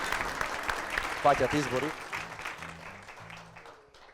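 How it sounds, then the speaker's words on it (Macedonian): A studio audience on a talk show claps in a short burst, then the clapping fades as people start talking over it. "Аплауз."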